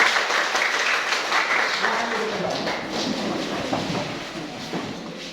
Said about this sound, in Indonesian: Tepuk tangan sedikit.